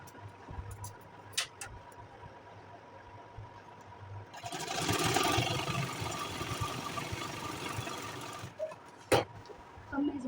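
A sewing machine stitching a kurti sleeve, a faint electric whir that swells into a steadier, louder run for about four seconds before stopping, with sparse clicks and handling noises around it.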